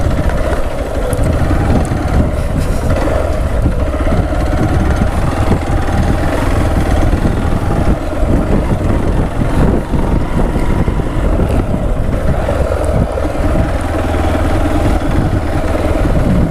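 A Hero Xpulse 200 BS6 motorcycle engine idles with a steady low throb for a sustained stretch outdoors, mixed with wind buffeting the microphone and no talk.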